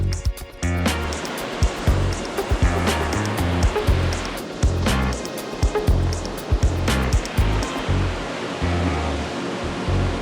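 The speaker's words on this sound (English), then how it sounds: "we have found ourselves on yet another beautiful beach here in Mexico, next to the ocean" Ocean surf rolls onto a beach in Mexico, a loud, continuous broadband wash with repeated crashing surges and brief louder bursts, heard up close with no talking.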